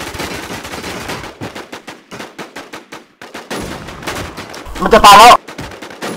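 Rapid gunfire bursts from a shooter video game crackle under excited players' talk, with a loud, dense burst of shots near the end.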